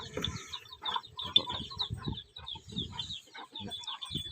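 Chickens cluck and chatter close by on a cattle farm, a busy run of short throaty calls overlapping one another, with thin bird chirps and faint tones above them.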